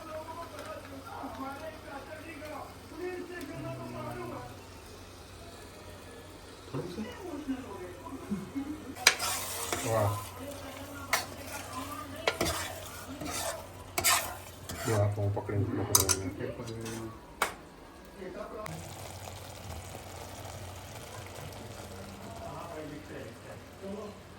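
A green turmeric vegetable dish, a North Gujarat winter specialty, is stirred in a pan, with scraping, clinking and sizzling bursts that grow busier midway, while people talk nearby.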